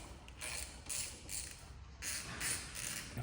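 Harley brake caliper bolts being tightened with a ratchet, giving a series of short, faint, close clicking and creaking bursts in a steady rhythm.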